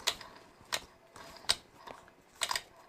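Part of a costly camera lens being twisted and spinning on a press fit, giving a series of sharp mechanical clicks and ticks at irregular intervals, close and fairly quiet.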